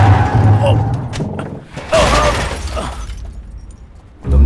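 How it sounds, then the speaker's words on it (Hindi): A car struck in a collision, with sharp crashing impacts and shattering bursts mixed with thuds, then quieter debris sounds before another heavy hit, voices talking through parts of it. "तुमने गाड़ी ठोकी है ना"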